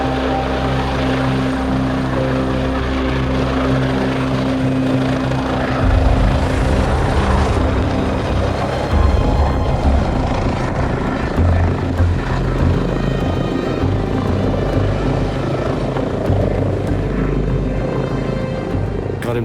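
A mountain rescue helicopter at a ski area fills the whole stretch with steady rotor thrum and engine roar, loud and close, with a low pulsing rumble throughout.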